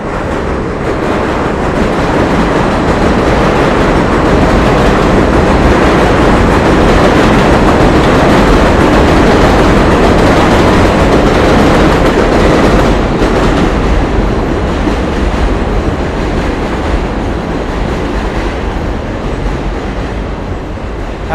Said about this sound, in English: We're gonna hear a lot of subway noise.